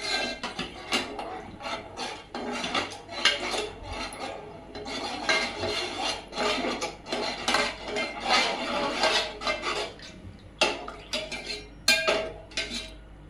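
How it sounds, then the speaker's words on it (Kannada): A spoon mixing jowar flour dough in a bowl, close and busy, with continuous scraping and clinking strokes against the vessel in an irregular rhythm for the whole stretch. "ನಾವು ಸ್ಪೂನ್ ತಗೊಂಡು ಈ ರೀತಿಯಾಗಿ ಮಿಕ್ಸ್ ಮಾಡ್ಕೊಳ್ಬೇಕು."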